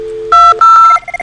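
A run of DTMF telephone keypad tones dialing extension 2003 on a lab IP phone system: a few short steady beeps, close and loud, with tones of two pitches and a quick trail of shorter presses at the end.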